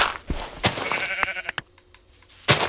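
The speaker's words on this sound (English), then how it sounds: "Floating sheep." Short, nasal bleats from a blocky sheep in Minecraft, a couple of quick calls in the middle set among clicks and light taps. A brief rush of noise opens and closes the clip.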